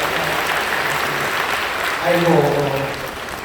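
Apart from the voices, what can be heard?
applause for a blessed child in church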